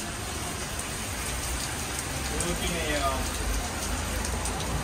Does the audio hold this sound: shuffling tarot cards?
no